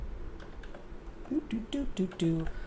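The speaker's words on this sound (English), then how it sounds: "I am adjusting to this new fancy keyboard that I got" Clacky taps on a new computer keyboard, a loose run of keystrokes that starts sparse and quickens toward the end, heard close and fairly clear over a low background hum.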